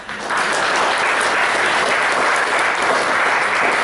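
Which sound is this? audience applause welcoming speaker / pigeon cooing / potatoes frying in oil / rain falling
audience applause welcoming speaker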